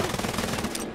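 Rapid Uzi submachine gun fire in the shooter Wolfenstein: Youngblood, a dense, continuous burst of fast shots filling the whole second at steady loudness with no pauses.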